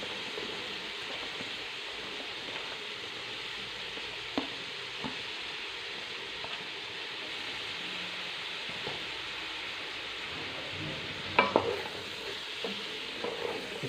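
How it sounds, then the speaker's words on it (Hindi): Sliced carrots and capsicum frying in a pan, a steady sizzle with occasional soft scrapes and clinks of stirring, one brief louder knock near the end. "इसको अच्छी तरह मिक्स करेंगे।"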